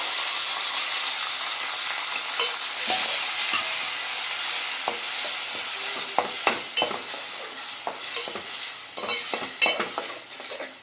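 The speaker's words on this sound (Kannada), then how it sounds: "ಟೊಮೆಟೊದಲ್ಲಿರುವಂಥ ಹಸೆ ಸ್ಮೆಲ್ ಹೋಗೋ ತನಕ ಒಂದು ಸ್ವಲ್ಪ ಹುರ್ಕೊಂಬಿಡಿ" Tomatoes fry in a hot pan with coriander leaves, a continuous close sizzle broken by scattered scraping and stirring knocks from a utensil; no voices.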